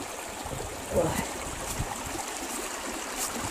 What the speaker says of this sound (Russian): Здесь вот идет вода.